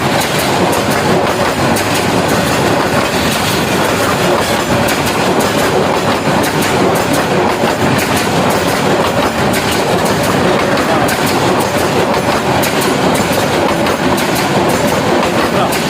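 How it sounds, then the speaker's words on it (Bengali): A new Bangladesh Railway train passes close by, a loud, steady rumble with rhythmic clickety-clack of wagon wheels on the rails sustained throughout. "ট্রেনটা কিন্তু বিশাল বড়।"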